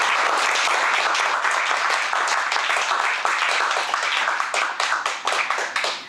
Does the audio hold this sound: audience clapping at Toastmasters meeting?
yes